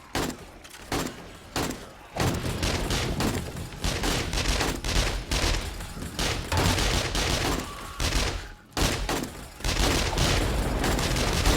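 Automatic turrets in the video game 7 Days to Die firing rapid continuous bursts of gunfire, loud and dense, with a few brief pauses between volleys.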